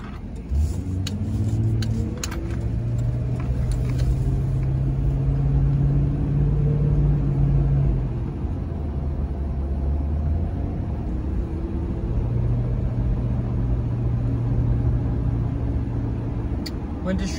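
Inside a car driving on a Sunday night, a steady low engine drone and road rumble fill the cabin, with faint engine pitch shifts as it accelerates and no talking.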